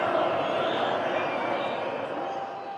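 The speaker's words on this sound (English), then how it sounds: "As you can hear, it sounds like a football crowd." Dense protest crowd filling a city thoroughfare, a steady, broad roar of many voices singing and chanting like a football crowd, fairly distant and fading slightly toward the end.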